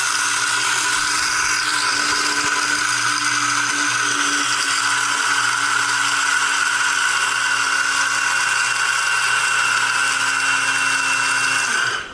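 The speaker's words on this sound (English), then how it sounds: "So after I grind it, I'm gonna get ready to make this coffee." An electric coffee grinder grinds Tesoro Del País coffee beans in one steady, loud whirring drone that runs for about twelve seconds and then stops abruptly.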